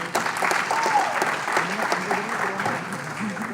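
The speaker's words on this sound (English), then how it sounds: "Let's give a great round of applause to Syed." An audience at a corporate awards ceremony claps steadily for a few seconds, a dense, sustained wash of hands with faint voices mixed in.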